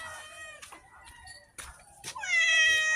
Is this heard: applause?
no